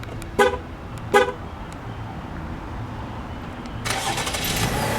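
Two short chirps from a 2018 Cadillac CT6 sound close together as it is remote-started, then its 3.6 L V6 engine turns over and settles into a steady idle.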